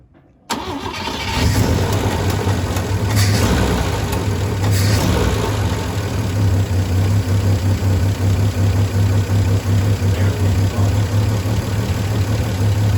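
A Volvo 164 with a B30 engine, first started since 1994, fires up after a short silence and then idles steadily with a low, loud rumble and some uneven pulsing.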